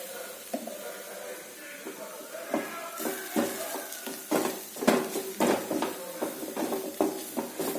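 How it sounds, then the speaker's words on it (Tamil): Masala powder frying in oil in a pan for a vegetarian fish curry, a soft sizzle with irregular clinks and scrapes of a spoon stirring, close and moderate in level. "நல்லா இந்த மசாலா பொடி வந்து எண்ணெயிலே வதங்கட்டும்"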